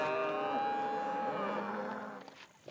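A cow and calf pair on a Florida ranch moo in a long, loud, drawn-out call close by, fading toward the end with no talking.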